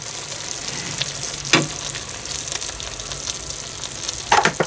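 An oniony pork stew with soft potatoes is stirred in a pot, giving a soft constant simmering sizzle broken by a couple of brief scraping clatters from the spoon.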